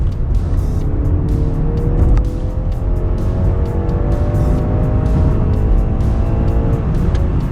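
A 2019 BMW 3 Series sedan engine in sport mode revs and accelerates steadily toward 7,000 RPM, its pitch climbing smoothly through the gears over constant loud road and tire noise.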